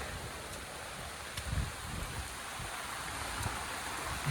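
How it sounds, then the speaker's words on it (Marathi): Steady, faint hiss of rain falling continuously near a small goddess temple at Barounda Devi, Virar, with a few soft drops and no voices. "आणि पाऊस आता काय थांबायचा नावच घेत नाही."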